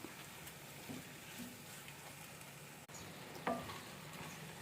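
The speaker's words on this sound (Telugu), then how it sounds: "ఇది కూడా పోసి మంచిగా ఇలానే ఒక 5 మినిట్స్ కలియపెట్టుకుంటూ ఉందాము." Buffalo milk being stirred into grated carrot halwa in a pan, a steady soft sizzle and wet scraping of the spoon, moderately close, with no talk.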